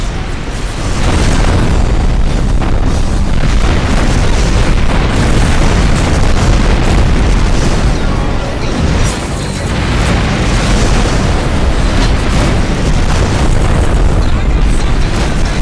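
Incoming missiles explode in the space combat game Rebel Galaxy, a dense, loud run of booms and bursts rolling almost continuously with a brief dip partway through.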